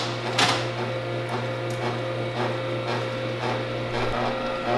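A Tribest Green Star Pro juicer runs with a steady low motor hum, overlaid by intermittent clicks and crunches as produce such as cucumbers is fed through, heard up close and alone.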